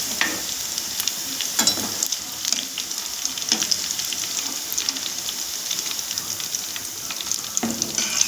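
Mushrooms fry in hot oil for a spicy varuval, making a close, steady crackle broken by scraping stirs every second or so, with no talking.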